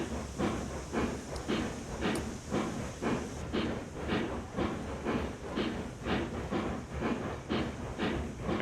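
A locomotive rolls along rails through a curve in Railroads Online, with a steady rhythmic clickety-clack and steam-like hiss repeating at an even pace, continuous and fairly close with no talk.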